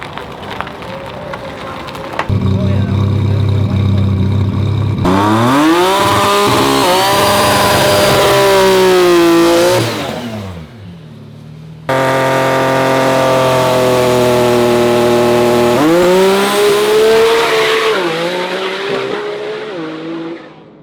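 A Toyota Tacoma pickup at HMP revs hard and loud, its engine climbing through rising, sweeping pitch over two long pulls, with a brief lull between them and the revs dropping away at the end.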